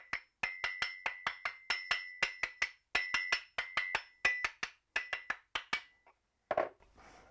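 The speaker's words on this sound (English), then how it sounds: "So I think now a couple of bumps with a poly hammer." A poly hammer taps quickly and repeatedly on a Subaru A/C compressor clutch pulley being worked off, giving about two dozen sharp, ringing metallic knocks in a fast irregular rhythm, followed by a softer clunk as the part comes off.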